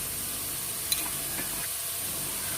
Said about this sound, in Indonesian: Lanjutkan menumis sampai sayurannya layu